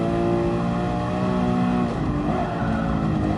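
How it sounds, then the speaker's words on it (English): A Mercedes Black Series car's exhaust roars loud and steady as it revs on the Nürburgring, the engine note shifting slightly around midway with rough crackle in the tone, no voices over it. "All these little nice crackling pops in the exhaust."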